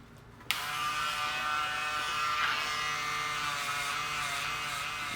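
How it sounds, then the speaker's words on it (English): A Wahl Super Close 5-Star shaver buzzes continuously and up close, switching on abruptly and holding a steady high-pitched electric hum at a barbershop station. "I'm going to finish up using my Wahl super close 5-star shaver shapers"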